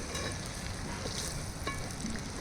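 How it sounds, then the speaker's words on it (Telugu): Ginger garlic paste frying in plenty of oil for a chicken pickle, a dense, continuous sizzle and crackle heard up close with no voices. "అల్లం వెల్లుల్లిపాయ పేస్ట్ కూడా ఫ్రై అయిపోయింది"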